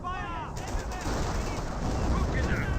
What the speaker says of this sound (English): M2 now running a barrage on this region.